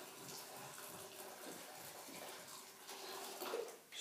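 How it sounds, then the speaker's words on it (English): Boiling water poured from a kettle onto rice and lentils for kitchari, a steady close splashing pour that runs for several seconds and swells louder near the end. "Here's the boiling water. I put it onto the rice and the lentils."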